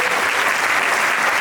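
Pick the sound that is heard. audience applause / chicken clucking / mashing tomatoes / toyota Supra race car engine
audience applause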